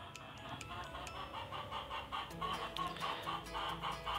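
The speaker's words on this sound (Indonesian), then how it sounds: "Ya, ada suara ayam ya." Chicken clucking at the edge of a town, a series of short repeated clucks over steady outdoor background noise, moderately close and continuing throughout.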